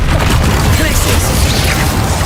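A Glacius spell cast in the Hogwarts Legacy video game bursts out as a loud, dense whoosh with a booming, crackling low rumble that fills the whole short stretch without pause.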